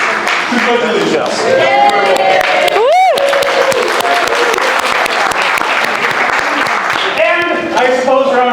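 A large audience claps and cheers steadily throughout, with a loud whoop rising in the middle and voices mixed into the applause, at the Bob Baker Marionette Theater.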